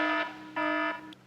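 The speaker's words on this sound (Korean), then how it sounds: "앞차의 간격을 얘가 경보음을 알려줘서 그렇지" A car's forward collision warning alarm sounds during a driving lesson on the road: two loud, steady electronic beeps close by, each lasting about a third of a second, separated by a short gap, with no talking.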